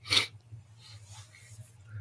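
A single sharp sneeze bursts out near the start, loud and close, followed by faint rustling and a low steady hum.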